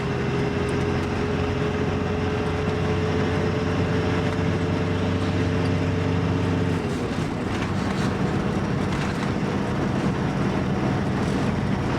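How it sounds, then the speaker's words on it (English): A long ore train rumbles along a railway line beside the road near Menindee, heard as a loud, continuous low drone with steady mechanical hum and rattle and no voices. "Yeah, we've got an ore train."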